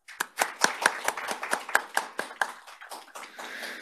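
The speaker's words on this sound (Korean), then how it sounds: "두 분의 토론자 큰 박수로 환영해 주시기 바랍니다." Scattered applause from a seminar audience welcoming two panel discussants, sparse claps at first that build into a denser, irregular patter before fading out, with no talk over it.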